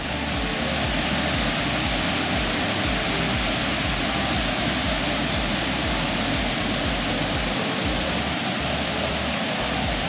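A wide waterfall in West Virginia roars as a loud, steady wash of rushing water heard up close, continuous and unbroken, with no talk over it.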